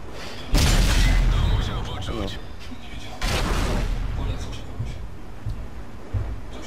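Tank cannon shots in World of Tanks: two heavy booms spaced a few seconds apart, each rolling off slowly, with someone talking over the game sounds.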